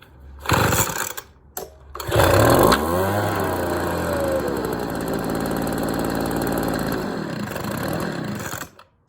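A WeedEater FB25 leaf blower's recoil starter is pulled a few times before the small two-stroke engine catches and runs steadily, loud and close, then cuts off near the end.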